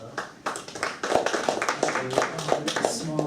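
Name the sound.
small round of applause from listeners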